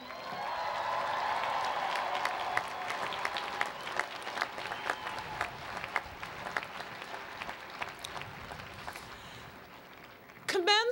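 Graduates and families at a 2007 university commencement ceremony cheer and applaud together, a broad sustained wash of clapping with scattered whoops that gradually thins out, ending in a brief louder burst.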